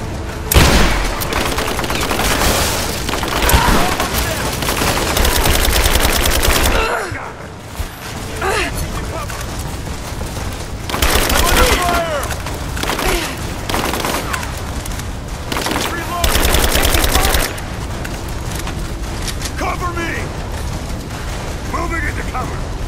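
Sustained gunfire bursts in the Rise of the Tomb Raider video game, loud and dense with rapid volleys, a brief lull near seven seconds, then more heavy firing and explosions mixed with shouting voices.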